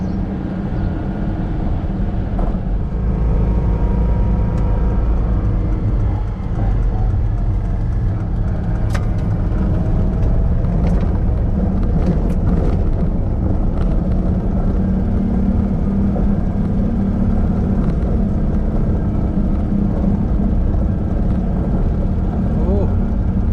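Citroën 2CV engine climbing a hill in second gear, a continuous low buzzing drone heard from inside the car, steady and loud, with occasional rattles.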